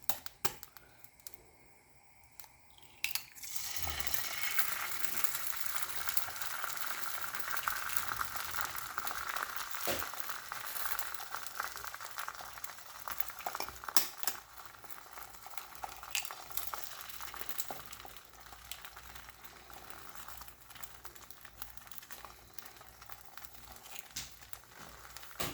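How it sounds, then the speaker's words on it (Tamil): Eggs fry in a pan for a red sunny-side-up breakfast, a steady close crackling sizzle that starts after a few quiet seconds and carries on with small pops and scrapes, no voices. "இப்போ நாம் எக்ஸை போட்டுடலாம்."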